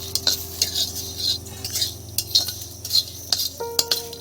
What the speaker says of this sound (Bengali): মশলাটা নেড়ে চেড়ে নিয়েছি